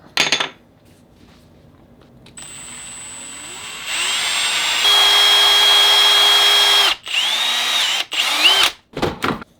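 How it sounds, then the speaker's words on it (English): An electric drill boring a hole in a wooden screwdriver handle for a DIY toy: a close, loud whine that starts, rises in pitch and holds steady, then cuts off, followed by short bursts and clatter. "Now I'll drill a hole in the screwdriver handle for the shank."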